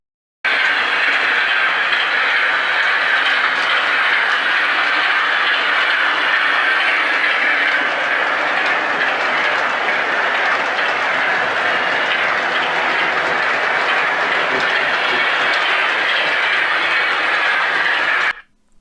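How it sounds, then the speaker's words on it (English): Lionel and MTH O gauge model passenger trains running on a home layout at night give a steady, continuous, fairly loud whir and hum of motors and wheels on track that holds for about eighteen seconds, then cuts off abruptly. "And I do love running the passenger trains at night."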